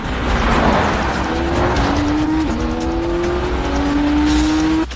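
Lotus and Alfa Romeo race cars roar loudly and close in a racing video game, their engines holding a rising, whining pitch with tire squeal, then a gear shift and a sharp drop at the end.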